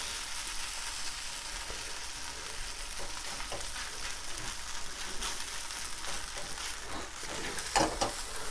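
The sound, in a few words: spaetzle noodles frying in a pan until crispy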